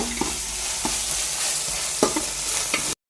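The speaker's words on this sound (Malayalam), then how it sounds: "വെളുത്തുള്ളി ഇത് നല്ല ഫ്രൈ ആയിന്. ഇനി മല്ലിച്ചപ്പും പുതിന ഇട്ട് കൊടുക്കും." Garlic sizzles steadily in hot oil as coriander and mint go into the pan, with a few louder stirring scrapes breaking through the continuous frying hiss before it cuts off abruptly.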